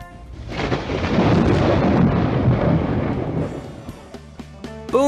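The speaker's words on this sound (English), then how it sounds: "Boom! Went the thunder." Thunder booms in a storybook reading, a loud, long rolling rumble that swells and slowly fades, followed by a few sharper thumps, with no voice over it.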